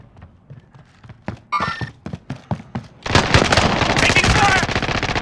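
Bursts of automatic gunfire in Call of Duty Warzone: spaced single and rapid shots build into a loud, dense sustained barrage of firing and impacts near the end.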